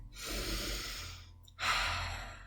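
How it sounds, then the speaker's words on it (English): A person draws a deep, audible breath in at close range in a quiet room, airy and sustained, followed after a short pause by a second breathy rush. "We're going to take a deep breath"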